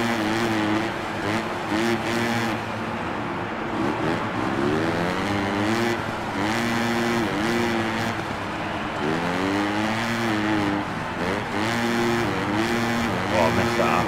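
A Honda 250 motocross bike engine in Supercross 6 revs and buzzes continuously, pitch rising and falling with throttle changes, loud and close, while someone talks over it.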